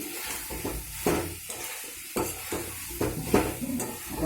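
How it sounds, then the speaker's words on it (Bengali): Vegetarian jackfruit curry stir-fried in oil in a pan, with repeated scraping spoon strokes over a soft, steady sizzle, close and fairly quiet. "দেখো তেল ছেড়ে দিয়েছে দেখেছো ধারগুলো দেখেছো তেল ছেড়ে দিয়েছে একটু কষিয়ে নিই"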